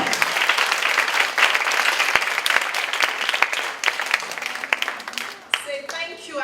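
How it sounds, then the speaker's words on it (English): Children applaud with steady, scattered clapping at a book festival reading, tapering off near the end as voices come in. "Can you clap for Auntie Obi?"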